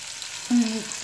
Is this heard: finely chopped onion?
yes